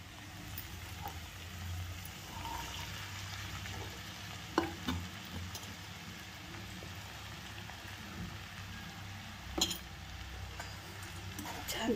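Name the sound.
sautéing potato mixture with coriander powder in a pan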